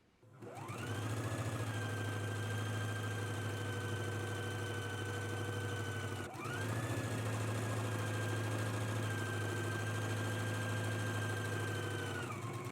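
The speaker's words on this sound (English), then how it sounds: "while you're still at the sewing machine, you want to stitch 1 inch away from the hem." A sewing machine stitches a pants hem in two long runs, its motor whirring steadily and loud up close with a brief pause between runs and no talking.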